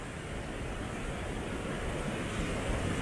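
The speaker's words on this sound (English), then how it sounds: "And you can hear it all like a huge waterfall over here." River water rushing over limestone in a jungle gorge at Semuc Champey, Guatemala, a constant broadband roar like a large waterfall, steady and fairly distant with no talking.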